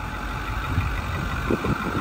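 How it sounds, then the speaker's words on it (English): A 2009 Ford F-550 Super Duty flatbed's Power Stroke diesel idles close by, giving a steady, even rumble with a low, continuous drone throughout. "Motor sounds great."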